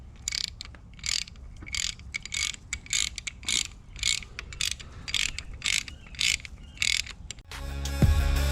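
Ratcheting clicks from a wrench tightening fasteners on an LS engine during piston installation in a two-door Tahoe swap, a steady series of quick rhythmic bursts up close, ending in a louder clunk.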